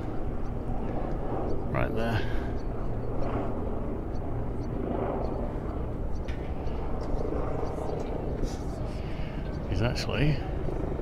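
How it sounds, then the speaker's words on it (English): A helicopter flying close by over Fort Stevens and Astoria on the Oregon coast, a steady rotor and engine drone running throughout beneath continuous nearby talk. "We're actually higher than this helicopter"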